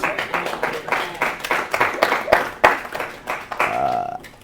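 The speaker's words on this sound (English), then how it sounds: "Let's give a round of applause for Brad" An audience claps for a speaker at a talk, a dense patter of hands over several seconds that swells and then thins, with a voice briefly underneath.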